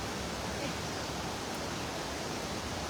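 Strong flowing water rushes steadily during net fishing, a dense, unbroken roar of current close by, with no clear voices.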